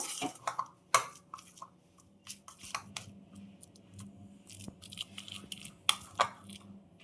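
Grated garlic smashed in a bowl for garlic bread: irregular light clinks and scrapes of a utensil against the bowl, soft and close, with quiet pauses between strokes.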